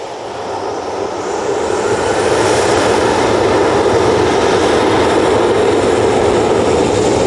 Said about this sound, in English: That's TUI 737 making its way probably down to Victor